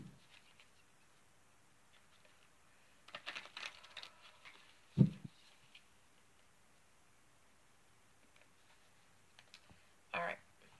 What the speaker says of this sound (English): I'll go ahead and shuffle the cards and get those laid out.